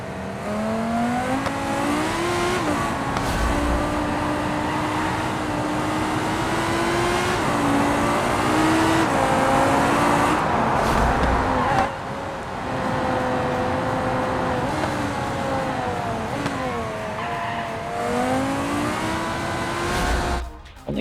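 A car in BeamNG burns nitrous boost, its engine screaming loudly and continuously, the pitch climbing and dropping repeatedly through gear changes with brief lulls between pulls.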